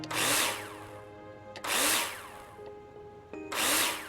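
A power drill drives screws in the Builder Simulator game, three loud whirring bursts of about a second each, separated by quieter gaps, close and with no talk.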